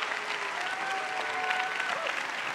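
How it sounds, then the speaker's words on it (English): An audience in a large hall claps warmly for a guest speaker, a steady, even wash of applause with faint cheering mixed in, somewhat distant and continuous throughout. "put your hands together, make a little bit of noise"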